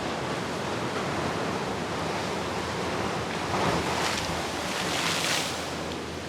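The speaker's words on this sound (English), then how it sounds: "There's a big wave coming right now," A big ocean wave breaks at Oahu, Hawaii, as a broad, continuous roar of surf that swells into a hissing wash of spray, heard alone with some wind buffeting the microphone.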